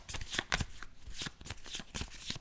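A deck of cards for the Star Trek Captain's Chair board game is shuffled by hand, giving repeated crisp riffling bursts that run steadily throughout at close range with no talking.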